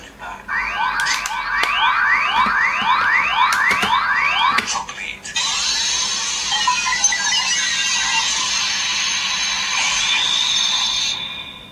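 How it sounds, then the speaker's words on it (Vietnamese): A Kamen Rider Faiz toy transformation belt plays its electronic sound: a run of rapid rising chirps, then a bright, sustained synthetic tone that holds for several seconds before cutting off. "đó chính là âm thanh biến hình của 5R xuất hiện trong bộ Kamen Rider DK"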